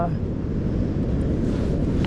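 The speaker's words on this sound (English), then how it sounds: "the waves are even bigger than the king tide waves were" Large storm-driven ocean waves and strong wind at a beach during a bomb cyclone with hazardous seas, a steady loud roar of surf and wind buffeting the microphone throughout.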